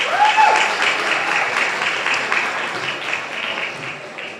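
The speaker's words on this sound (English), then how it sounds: "Let's have a round of applause for each and every one sitting in this room." Sustained audience applause fills a room at a mental health awareness fundraiser, steady and dense throughout, with a faint voice or tone briefly audible near the start.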